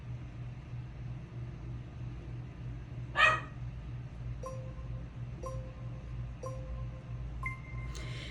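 Dogs bark a few times in the background, one sharp yip followed by a series of evenly spaced barks, faint over a low steady hum indoors.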